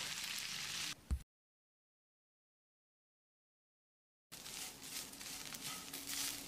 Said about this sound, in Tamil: இந்த கறிவேப்பிலையை நல்லா மொறு மொறுப்பாக வர்ற அளவுக்கு ஃப்ரை பண்ணிக்கலாம்.